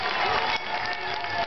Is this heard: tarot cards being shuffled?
no